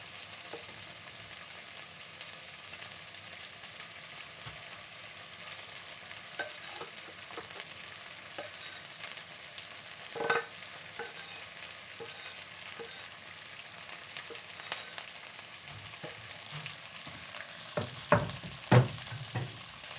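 Onions frying in a pan give a soft, steady sizzle, broken by occasional scraping stirs and a few sharper clatters near the end; no voices.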